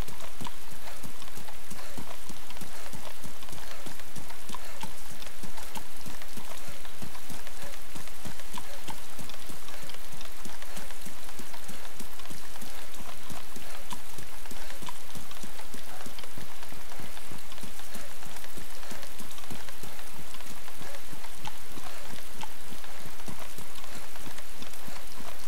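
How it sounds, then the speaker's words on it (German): Heavy rain in the video game DayZ, a dense, loud, continuous patter of drops with a rapid rhythmic thumping running through it, no voices. "Ja, Regen ist schön, ja."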